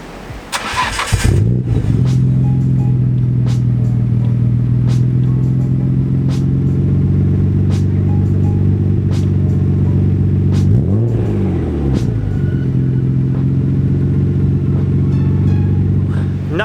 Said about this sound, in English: I'll turn on the car so you guys can hear the exhaust.